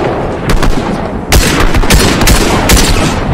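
Loud, close bursts of Fortnite gunfire crack out in several sharp volleys, a player under fire from an opponent, with a dense roar sustained between the shots.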